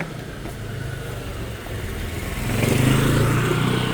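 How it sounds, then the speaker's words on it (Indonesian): A delivery motorbike rolls past on a residential street in Korea, a steady mid-pitched engine drone that swells louder toward the end as it draws near, with no voices. "Tuh motor delivery."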